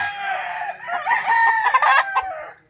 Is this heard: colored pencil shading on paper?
no